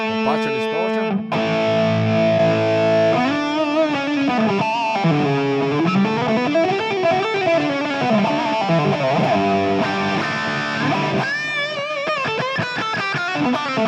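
An electric guitar plays through a Fractal FM3 patch set to partial distortion, with bends, sustained notes and melodic runs, loud and alone, coloured by effects.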